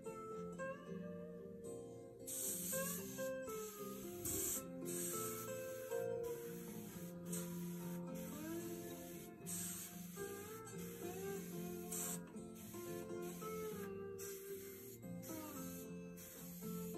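An airbrush sprays paint over a lionfish stencil, a steady thin hiss running continuously beneath mellow background music with no speech.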